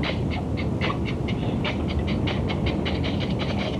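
A train rolls past with a steady rumbling roar and a regular clickety-clack rhythm, continuous and fairly loud throughout, with no voices.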